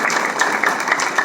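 Dense, steady applause from a large audience at a workers' motivational session, many hands clapping together in a brief loud burst.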